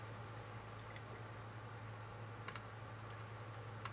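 Fingers tapping on a computer keyboard while entering a PC800 program: a few faint, sparse key clicks over a steady low hum and hiss, with no talking.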